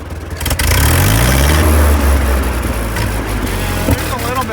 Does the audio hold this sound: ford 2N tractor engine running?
yes